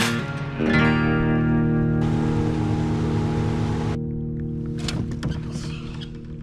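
Boat engine droning steadily as it motors away across the water in Alaska. The loud hum holds and slowly fades, with light water splashes over it.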